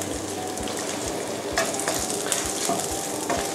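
Squid pieces sizzle and crackle steadily as they are stir-fried in a hot pan, with soft periodic scrapes and tosses of the spatula, close and continuous with no talk.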